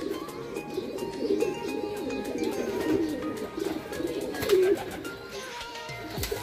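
Deep, repeated cooing from a large bird, fairly close, over a steady background of outdoor ambience with faint chirps.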